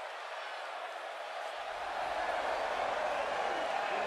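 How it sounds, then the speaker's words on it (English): Dense crowd roar in a wrestling video game arena, steady and loud, swelling slightly after a low background layer drops in. "And Michael, it sounds to me like this crowd already picked the one who they want to win this match"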